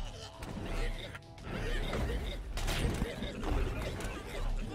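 Repeated blasts from an explosion trap in Terraria, a string of dull booms and crashes bursting one after another over a steady low game background, with talking layered beneath.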